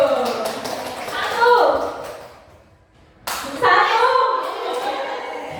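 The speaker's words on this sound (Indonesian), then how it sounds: "yang terakhir, tepuk tangan dulu" A group of people clap hands together in a primary school classroom, a loud burst of clapping that fades into a brief lull before a second round of rapid, close clapping starts up again.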